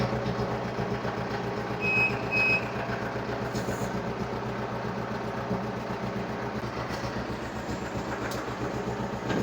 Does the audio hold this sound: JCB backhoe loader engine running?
yes